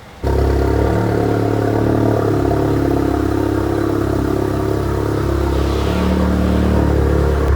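An Audi S3 engine starts abruptly and holds a loud, throaty rev, close by, with the pitch shifting slightly as it runs steadily.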